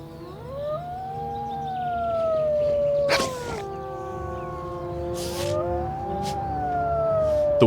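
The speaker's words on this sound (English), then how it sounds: "The wolf's howl, perhaps the most iconic sound of the wilderness" A wolf howls in Yosemite, long rising and falling tones layered in several voices, loud and sustained, with brief bursts of other noise partway through.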